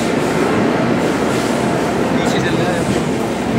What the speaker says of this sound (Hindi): दोस्तों, हमारी ट्रेन आ गई है